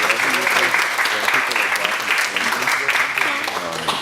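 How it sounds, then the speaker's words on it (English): An audience at a training session on engaging Latino men and boys to end violence against women claps for a participant, a full round of sustained applause with a voice talking over it. "Let's have another round of applause for Jose."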